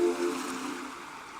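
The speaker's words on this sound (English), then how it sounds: "sound of waves resounds faintly from below the cliffs" Waves washing against the base of cliffs in the video game Robotics;Notes Elite, a soft, steady, distant surf hiss with a slight swell at the start and no voices.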